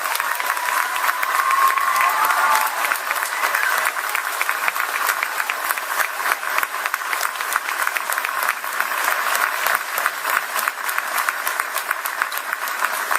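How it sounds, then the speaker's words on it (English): Audience applauding Governor Christie at a Union City event with Mayor Stack, a loud, dense and sustained roar of clapping from a large crowd, with some cheering mixed in and no speech throughout. "Let's give him a tremendous round of applause."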